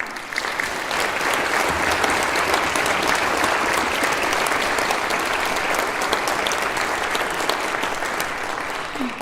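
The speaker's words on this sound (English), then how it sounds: "So please just give another round of applause for her." An audience at a college symphony orchestra concert applauds with sustained, even clapping lasting about nine seconds, dense and moderately loud throughout, tapering slightly at the end.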